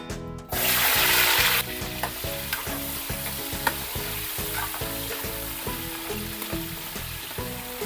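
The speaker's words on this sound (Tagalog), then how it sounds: "Ang lagi kong unang ginagawa, pinafry ko muna itong ating patatas at carrots." Potato and carrot pieces fry in hot oil with a steady, close sizzle, broken by a rhythmic series of scraping stirs against the pan; a brief loud burst of hiss opens the sequence.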